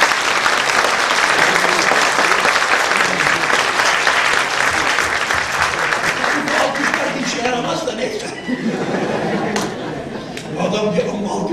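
Dense, sustained applause from a large audience at a religious talk, loud and steady throughout before thinning slightly toward the end.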